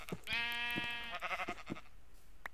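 Sheep bleating in a Minecraft-style village farming game: one long, wavering, harmonic bleat up close, followed by several short clicks and thumps of gameplay action.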